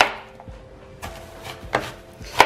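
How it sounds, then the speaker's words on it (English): A knife slices through an onion for an Armenian beef stew, several sharp chopping taps against a board spaced out at irregular intervals, close and clear with no talk. "So we need to slice our onion,"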